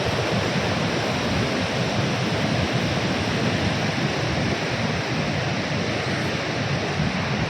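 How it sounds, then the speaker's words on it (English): Pykara waterfall near Ooty, swollen with water after rain, roars as a loud, steady, close wash of broadband rushing noise that never lets up, with no voices over it. "The waterfall is just simply roaring, the water."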